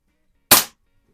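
A single sharp shot from a Hy Score model 819 air rifle, a Diana 10 type, cracks once near the mic amid silence and dies away in a fraction of a second.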